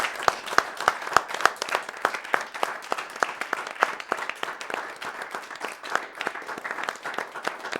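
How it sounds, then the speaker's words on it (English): Audience applause from a crowd at a charity gaming marathon, a steady run of overlapping hand claps heard alone at moderate volume throughout. "could we all give a big round of applause"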